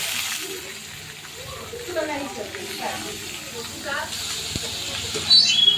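Chopped onion hisses in hot oil with fried green chillies and curry leaves for a bread-crumb poha dish, a soft steady sizzle under a person talking, swelling briefly near the end.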